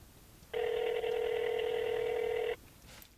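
A steady electronic ringback tone plays for about two seconds as a cell phone call goes through a vehicle signal booster, loud and continuous against a quiet background, then cuts off abruptly.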